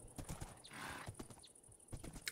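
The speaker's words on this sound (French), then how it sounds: "Et on a notre cheval." Horse hooves clip-clop in the NaturaCraft video game, a quick irregular run of hollow thuds with a faint whinny-like cry in the middle and a steady background hiss.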